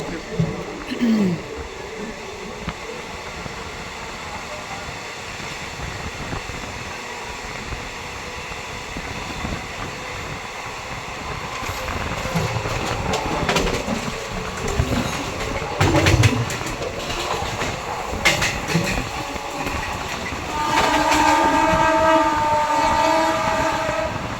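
Madhya Pradesh Sampark Kranti Express passing near at Banmor station while a special train stands, a continuous rumble of wagons building toward the end, with a horn sounding late in the pass.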